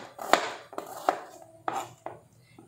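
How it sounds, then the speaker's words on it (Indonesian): Spice ingredients for a green chilli sauce are cut into small pieces with a knife on a board: four or five sharp, separate knocks spaced about half a second apart, close and fairly quiet, with no talking. "Biar ini biar cepat, kita potongin kecil-kecil ya."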